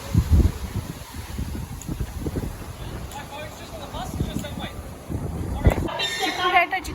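Strong, dusty wind buffets an open vehicle touring a zoo in Australia, a steady low roar and rumble throughout with faint voices underneath.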